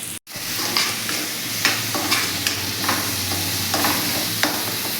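A spoon stirs a ginger, garlic, coriander and green chilli paste into fried onion and tomato in a pan, with repeated scraping strokes and light taps over a constant close sizzle and no talking.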